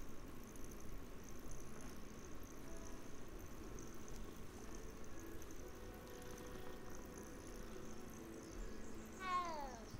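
A cat meows in the video game Hogwarts Legacy, a short rising call near the end, set against a steady bed of game ambience and music.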